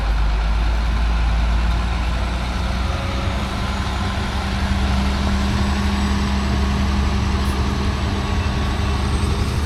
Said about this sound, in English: If the mixer pulls this hill, we'll hurry up and throw some in the middle